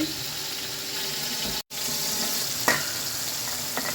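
A potato and egg curry sizzles steadily in a pan after a little water goes in, a close, even hiss with a brief break and a faint clink partway through.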